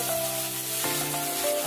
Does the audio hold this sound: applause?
no